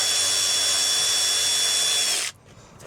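An electric ratchet runs at high speed on a seized alternator of a Mercedes Vito, a steady loud whine for about two seconds before it cuts off and leaves a quiet tail.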